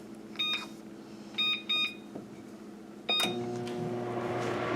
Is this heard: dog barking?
no